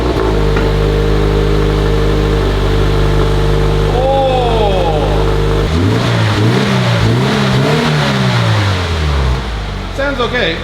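Toyota GT86 engine fitted with a new X-Force exhaust idles with a steady low drone, then revs hard through several rising and falling sweeps, loud and close, with a brief exclamation from a person.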